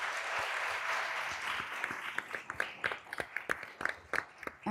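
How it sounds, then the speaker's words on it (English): Audience applause for the panelists at a Latinx health policy summit: a dense wash of many hands that thins into scattered, separate claps toward the end. "Can we give a round of applause to our panelists,"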